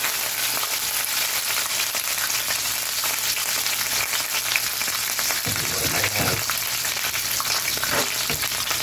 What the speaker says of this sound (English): We got those onions still. Let's get them in there.